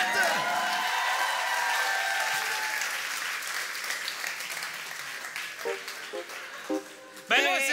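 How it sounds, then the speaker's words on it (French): Audience applause at a live character podcast taping, a dense burst of clapping that swells loud at the start, then thins and fades under voices beginning to talk, with a sharp final clap near the end. "on peut applaudir"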